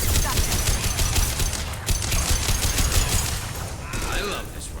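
Rapid rifle gunfire from the video game Mass Effect rattles loud and nearly continuous in dense automatic bursts, with a brief pause and a few electronic chirps near the end.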